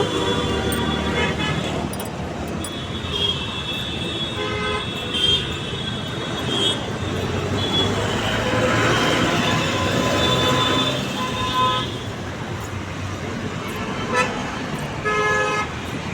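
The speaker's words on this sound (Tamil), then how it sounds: "டிராஃபிக்கை பாருங்கள் எவ்வளோ டிராஃபிக்" Road traffic near a metro area with vehicle horns tooting repeatedly over a continuous dense rumble of engines and passing vehicles, loud and close throughout.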